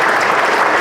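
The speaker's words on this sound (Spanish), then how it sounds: "Un voto de aplauso para nuestros profesores" Loud, dense applause from an audience honouring professors at a panel session, a brief burst of continuous clapping.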